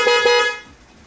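Car horn honking on a vehicle fitted with a Night Ranger light setup, a stock four-year-old car, with two quick close toots followed by a longer blast that cuts off, no talk over it.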